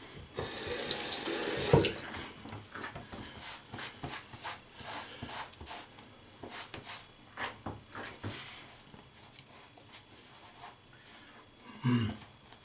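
A single-edge safety razor rinsed under a running tap into a sink, with water splashing steadily for several seconds, a louder burst near the start and a brief clatter near the end; close, no talking.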